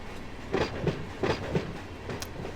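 A BNSF freight train in the Run 8 rail simulator pulling forward, with a steady rolling rumble and rhythmic clickety-clack of wheels over rail joints in paired beats, plus a brief high squeal near the end.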